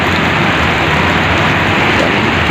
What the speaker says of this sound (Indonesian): jam 7-an lah hujan